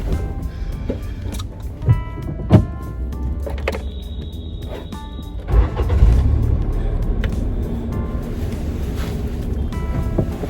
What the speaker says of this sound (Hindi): चला दे गाड़ी